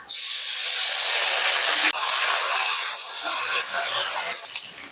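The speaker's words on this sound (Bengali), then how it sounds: "এবার আমি তেলের মধ্যে দিয়ে দেবো আদা রসুন কাঁচা লঙ্কা বাটা" Loud, steady hissing sizzle of ginger, garlic and green chili paste dropped into hot oil, bursting in at once and sputtering on with faint crackles throughout.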